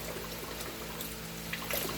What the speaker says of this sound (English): I'm just gonna use some cold water